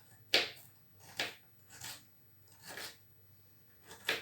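A knife slices through carrot on a cutting board in five separate crisp, crunchy cuts spaced about a second apart, close and fairly quiet, with no talking.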